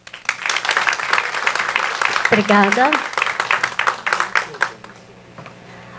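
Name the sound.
audience applause welcoming a speaker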